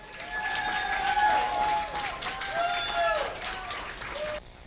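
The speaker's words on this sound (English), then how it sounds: "a big round of applause to Grace Tsai" An audience at a startup event in Kuala Lumpur applauds a speaker with a sustained wash of clapping and some cheering that fades out near the end, as a voice talks over it.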